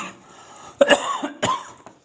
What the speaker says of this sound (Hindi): थोड़ा प्रॉब्लम है दोस्तों गला में, है ना, इसलिए कभी कभी खांसी आ जाती है